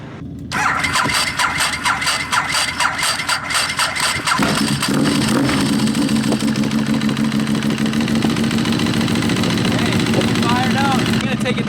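A restored barn-find Ducati 1098 motorcycle with a freshly cleaned fuel system cranks and catches, revving loudly at first before settling into a steady, close, rumbling idle.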